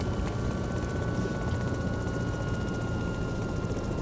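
Helicopter landing in the DayZ video game: a steady, loud rotor chop and engine whine fills the whole stretch with constant intensity and no talk.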